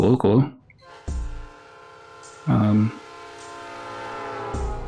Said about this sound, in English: Train's leaving any minute.